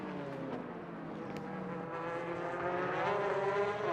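GT race cars at the Autopolis circuit in a 1999 JGTC race sweep past, their engines a steady, fairly faint rising drone with shifting harmonic whine over about four seconds.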